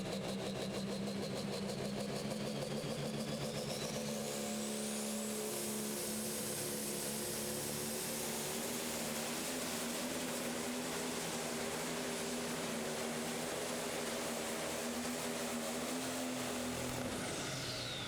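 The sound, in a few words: pro stock pulling tractor engine during a tractor pull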